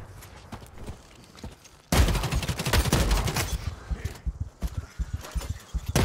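SMG gunfire in the video game The Cycle Frontier: quieter scattered shots, then from about two seconds a loud, dense spray of rapid automatic fire that thins into choppier bursts.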